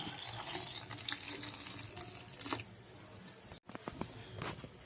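Water poured into a blended tomato rasam mixture, a close splashing, trickling pour with small patters and clinks, broken briefly near the end before resuming.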